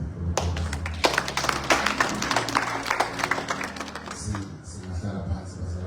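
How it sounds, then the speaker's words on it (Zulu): A church congregation claps hands for God during a service, with dense, rhythmic clapping from many people mixed with voices, fading toward the end. "sinomshayeli ihlombe uNkulunkulu"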